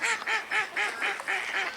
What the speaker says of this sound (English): Couple of mallards fighting over a hen.